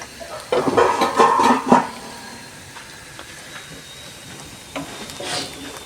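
Onions fry in ghee in a pan for chana khichuri, with a burst of clattering and scraping stirs early on that settles into a quieter sizzle with occasional taps.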